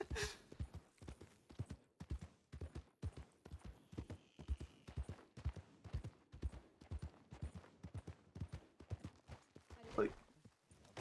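Rhythmic clip-clop of horse hooves at a steady walking pace in the video game Red Dead Redemption 2, fairly quiet, with a brief voice near the end.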